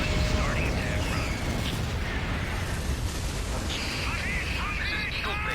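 An air strike attack run in the video game Command and Conquer Renegade, a dense, loud wash of explosions and gunfire rumbling continuously, with distorted radio-like voices talking over it.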